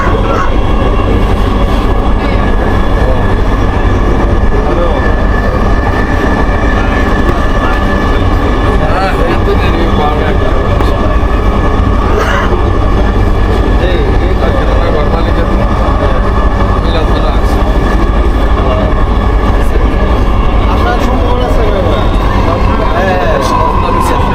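A Dhaka Metro Rail train rumbles along steadily with a loud, continuous low roar and a rattling hum, constant throughout.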